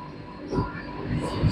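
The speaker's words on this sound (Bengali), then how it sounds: "কাটিয়ার জংশনের 4 নম্বর প্ল্যাটফর্মে আমাদের ট্রেন প্রবেশ করলো।" A Vande Bharat Express train rolls into platform 4 at Katihar Junction, heard as a brief, steady onboard rumble with faint rail noise.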